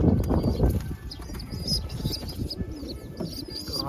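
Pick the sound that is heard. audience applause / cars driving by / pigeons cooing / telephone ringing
pigeons cooing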